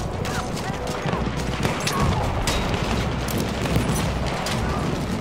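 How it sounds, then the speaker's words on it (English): Machine gun fire in the Battlefield 1 video game, a dense continuous clatter of gunfire and explosions filling the battlefield mix with no letup. "Machine gun! One of theirs!"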